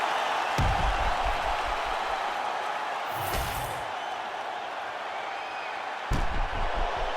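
A video-game arena crowd in EA Sports UFC 5 cheers at the finish of a full-length bout, a steady, dense roar filling the whole stretch, with a few dull thumps breaking through near the start and end.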